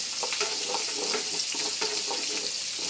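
Pork browning in a pan, with a continuous bright sizzle and crackle at steady loudness and a few soft stirring knocks scattered through it, heard alone without any talking.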